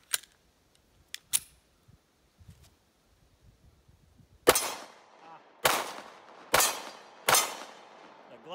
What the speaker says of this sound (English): The Glock shoots all 4 of them that the Sig light striked.